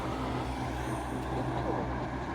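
Lorries pass near York railway station, a steady broadband road rumble with a low drone, moderately distant and continuous throughout, with faint speech mixed in.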